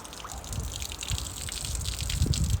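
Water trickles and drips from pool cleaning equipment as it is lifted out of a swimming pool, a steady close patter of small drips and dribbles with no talking.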